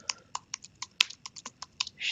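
Quick, irregular clicks of fingers typing JavaScript console.log code on a computer keyboard, close and crisp, with a short burst of faster keystrokes near the end.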